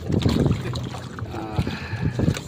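Strong wind buffets the microphone out on open water near a small boat at Matabungkay, a steady low rumble with gusting surges, while people talk and call out over it.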